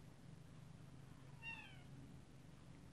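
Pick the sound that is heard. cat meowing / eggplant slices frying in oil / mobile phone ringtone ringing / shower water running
cat meowing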